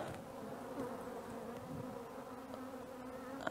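Honeybees buzzing on a hive frame during queen rearing, a steady close hum of many insects with faint flicks and wing bursts, unbroken for a few seconds with no voices.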